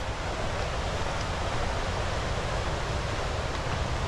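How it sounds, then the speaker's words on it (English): A waterfall on a Little Langdale walk near Elterwater, heavy after rain, sounding as a constant broadband roar of falling water from some distance, steady and unbroken with no voices. "you can still hear the waterfall"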